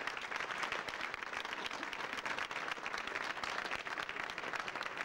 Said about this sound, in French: Je crois qu'on peut les applaudir tous les deux d'avoir accepté.